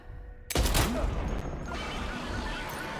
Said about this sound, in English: I've got a sniper rifle I can use